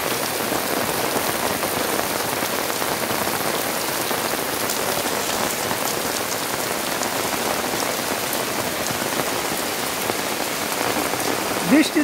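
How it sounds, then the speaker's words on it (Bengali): Heavy rain pours over a quiet village with ponds and trees, a dense, even hiss of drops striking surfaces that holds steady and fairly loud from start to finish with no talking. "প্রচুর বৃষ্টি হচ্ছে এখন।"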